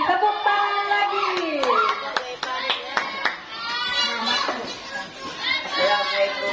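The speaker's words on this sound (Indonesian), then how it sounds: "Tepuk tangan lagi." At a school poetry reading contest, a small group of children gives a brief round of sharp, scattered claps amid lively chatter and children's voices.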